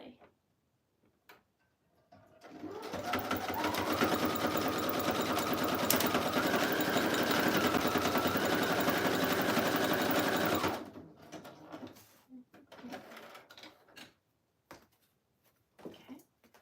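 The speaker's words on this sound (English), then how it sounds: "I'm gonna do a cross stitch is what I'm trying to say. Zigzag stitch, there we go" Sewing machine running a zigzag stitch along lace next to a spine, a steady fast mechanical whir for about eight seconds with faint talking before and after.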